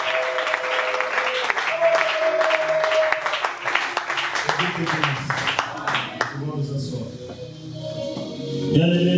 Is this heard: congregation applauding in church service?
yes